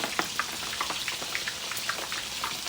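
Homemade fries cooking in hot oil, a close, continuous bubbling sizzle with scattered sharp pops and crackles, no voices.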